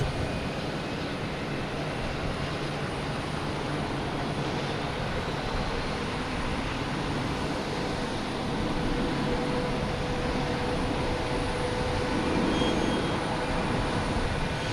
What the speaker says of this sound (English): next takeoff is Air Canada heading to Montreal in E175